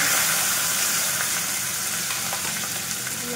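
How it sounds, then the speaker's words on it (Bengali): Hot oil sizzles and crackles steadily as a fish head fries in a wok, a dense continuous hiss with no voices. "তেলটা গরম হয়ে গেছে। আর ওর ভিতর আমি মাছের মাথাটা দেবো।"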